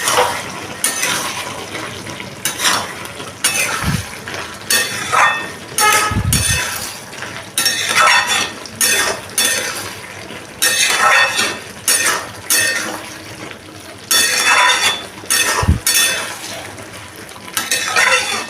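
A spoon scrapes and clinks against a pan in repeated bursts while hilsa fish head and taro are stirred and sautéed, close and fairly loud, with a few sharper metallic knocks along the way.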